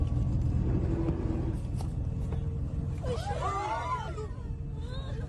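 A bus rolling backwards in Subic Bay Freeport Zone gives a heavy, steady low rumble throughout, with distressed voices rising over it in the second half.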